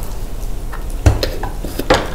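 Soy sauce chicken fries in oil in a home kitchen, with soft sizzling and clinks of a utensil against the pan or dishes, two sharper knocks standing out, close by and without talk.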